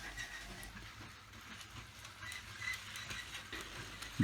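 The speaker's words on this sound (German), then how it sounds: "Der Zug hält jetzt vor unserer kleinen Stadt an." A toy LEGO train in a 1970s western town set rolls in with faint, quiet rail clatter and light clicking, fairly distant, with no voices.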